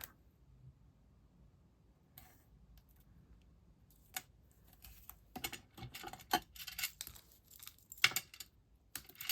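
Sticky scissors snipping a foam adhesive strip on a craft table, heard as sparse, quiet crisp clicks and snips in a faint room, scattered irregularly with no talking.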